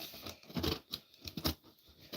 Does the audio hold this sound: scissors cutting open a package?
yes